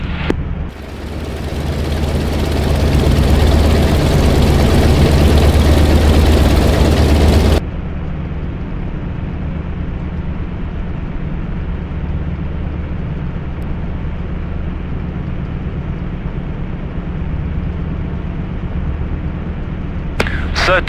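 A Yak-52 aircraft engine running during a test run in the DCS flight simulator, a loud roaring drone that drops to a steadier, lower idle rumble partway through and continues to the end.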